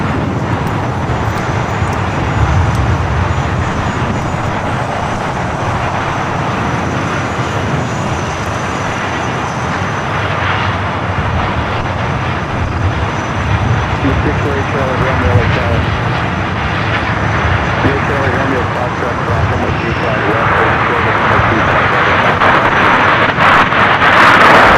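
A CMA CGM Air Cargo heavy freighter from Mexico City lands at LAX, its engine roar steady and loud across the whole stretch under wind buffeting, with a tower radio voice breaking in now and then.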